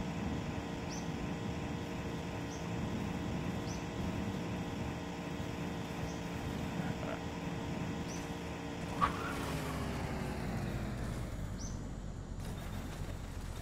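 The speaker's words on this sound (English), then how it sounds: "Just listen to the engine." A car engine runs steadily while driving in the video game The Long Drive, a constant low drone with a faint click partway through and the hum shifting slightly near the end, with no talk.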